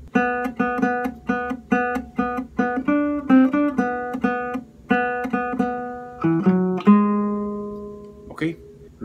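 A steady run of plucked acoustic guitar notes plays a melodic phrase, evenly spaced and close, ending on a few sustained notes.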